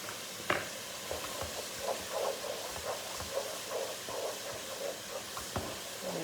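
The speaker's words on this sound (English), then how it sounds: "I'm going to add my chillies now, and the seeds. Give them a bit of a stir" Chillies and seeds sizzling in a hot pan, with a steady soft frying hiss and gentle scraping from stirring, plus a few light clicks, heard up close with no talking.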